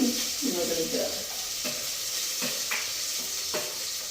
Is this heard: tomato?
yes